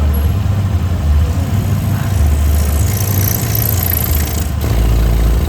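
A rebuilt carbureted Honda Beat motorcycle engine idles loud and close on a workbench, a steady low chugging drone with a brief dip near the end, no voices over it.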